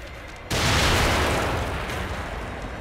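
Grenades go off in The Evil Within, starting with a sudden loud blast that becomes a sustained roaring rumble and slowly fades.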